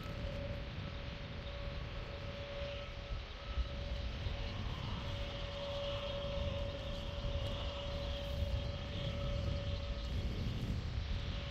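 A jet airliner taxiing to its parking stand at London Luton Airport after a flight from Bacău, Romania, gives a steady engine whine with a sustained tone, heard from a distance under heavy wind noise.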